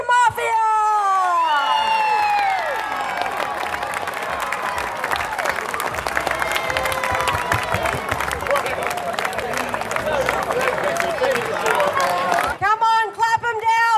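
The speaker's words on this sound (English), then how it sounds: "Come on, clap them down, they deserve it" At a blues and barbecue festival in Australia, a crowd claps and cheers for barbecue competition grand champions, with sustained applause and whoops under an announcer's loud voice that opens and closes the clapping.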